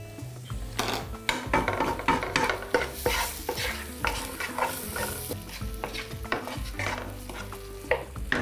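Onion sizzles and fries in a pan while a utensil stirs and scrapes it in repeated close, rhythmic strokes, with occasional clinks against the pan and no voices.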